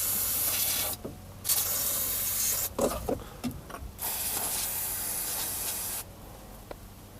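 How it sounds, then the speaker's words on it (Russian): WD-40 lubricant is sprayed onto a stuck bolt in loud close hissing bursts, several long sprays separated by brief pauses filled with rattling and handling noises. "перед снятием нужно смазать его ВДшкой, чтобы он проще открутился"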